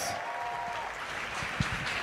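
Sustained applause from a fashion show audience at a runway event, a dense, even wash of clapping heard from a distance, fairly soft with a faint voice beneath.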